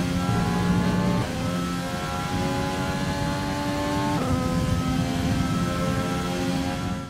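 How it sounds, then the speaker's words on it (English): A Renault Formula 1 car engine in the video game F1 2020, heard on board, screams at high revs, its pitch dropping sharply at gear changes, then climbing again, loud and sustained throughout. "we'll now ride on board with the Renault and listen to its engine sound."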